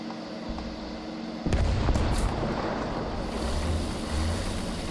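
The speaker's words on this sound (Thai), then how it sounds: "ปืนใหญ่อัตราจรของประเทศจีน" A heavy blast from a Chinese self-propelled artillery gun in War Thunder booms out, followed by a low rumbling engine and lingering noise.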